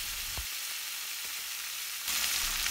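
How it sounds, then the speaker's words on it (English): Raw banana pieces frying in a pan over a low flame, a steady soft sizzle with a brief clunk near the start and the hiss growing a little louder toward the end, no voices. "Now add raw banana to this"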